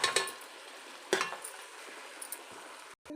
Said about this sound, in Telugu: ఇప్పుడు మనం చింతపండు రసం వేసుకుందాం